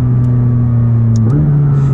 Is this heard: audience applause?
no